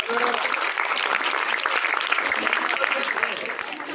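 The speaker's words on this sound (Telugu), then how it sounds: "మీకు మీరే ఒకసారి గట్టిగా క్లాప్స్ కొట్టుకోవాలి" Loud, sustained applause from a school audience at a farewell event, dense clapping filling the whole stretch, with a few voices mixed into the crowd.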